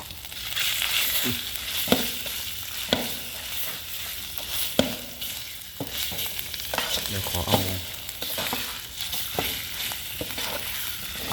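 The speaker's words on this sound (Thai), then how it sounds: "ผัดเผ็ดหมูสามชั้ น" Pork belly stir-frying in a spicy Thai stir-fry, a steady loud sizzle broken by regular scraping strokes of the spatula across the pan, with no voices.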